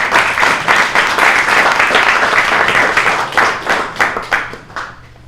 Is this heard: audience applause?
yes